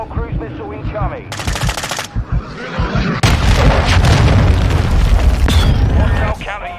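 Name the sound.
cruise missile strike explosions in Modern Warfare 2 video game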